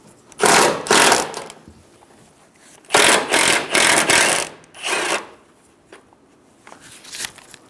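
Top strut nuts on a 2010-2014 Subaru Outback being run off with a 12mm socket, heard as several loud, buzzing ratchet or power-tool bursts separated by short pauses, close up.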